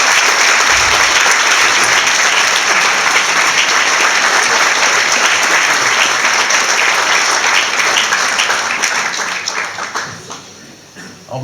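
An audience at a book event gives a loud, dense round of applause for the book's illustrator, sustained for about nine seconds before fading away near the end.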